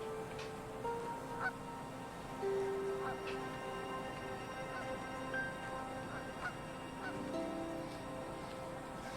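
Cartoonish goose honks from Untitled Goose Game, several short nasal calls spread through a soft backdrop of game music.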